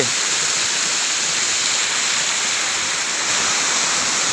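Cold water pours steadily over the Le Tong Ku waterfall in Tak province, a dense, even roar of rushing flow with no breaks or voices.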